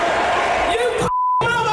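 Censor beep covering swearing at a comedy show, a single steady tone lasting about a quarter second in a sudden pocket of silence, with loud speech before and after it.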